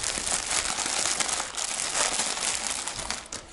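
Crinkly plastic shopping packaging is pulled open up close, a dense continuous rustle and crackle with no voices.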